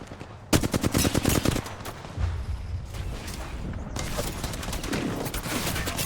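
Rapid automatic gunfire from an Apex Legends match bursts out loud and close in a dense rattling volley, then continues as a busier, sustained stretch of overlapping shots and impacts with no talk.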